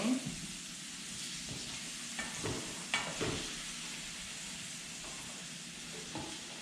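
Hakurei turnips frying in a pan over high heat, a steady close sizzle with a few soft stirring scrapes and taps, no voices.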